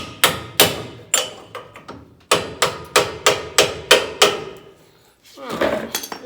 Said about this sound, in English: Now all I gotta do is probably get me a hammer, tap this thing